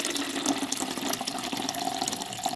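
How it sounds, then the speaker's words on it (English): Hot water pours steadily into a cooking pan while preparing a traditional Turkish dish, a close continuous splashing gurgle that stops abruptly at the end. "and then I'm gonna add in some hot water."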